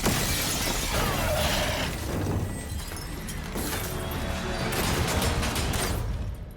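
Glass shattering and breaking apart in the sci-fi shooter game Call of Duty Infinite Warfare, a dense, loud crash with scattered debris and mechanical rumble running continuously for several seconds.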